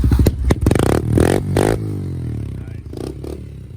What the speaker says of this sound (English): Just rev it a little bit.